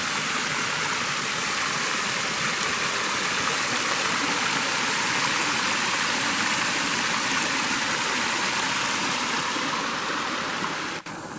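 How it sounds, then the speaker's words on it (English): Water rushes and splashes continuously from a log nearby in a forest, a full steady stream pouring and spattering without pause. "I like how the water is shooting out of that log."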